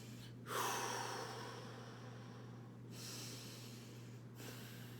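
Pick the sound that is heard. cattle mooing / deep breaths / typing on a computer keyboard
deep breaths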